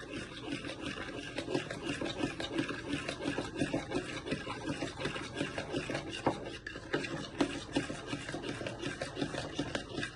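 A fork whisks sour cream with other cake ingredients in a bowl, making a steady, soft scraping and rubbing sound that continues without a break.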